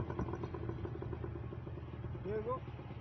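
A motorcycle engine idles with a low, even rumble throughout, and a voice speaks briefly over it.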